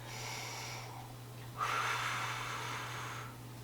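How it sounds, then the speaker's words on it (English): Deep breathing during a yoga plank hold: a slow, close inhale followed by a long, breathy exhale with a hissing edge, over a low steady hum, without speech. "2 more deep breaths"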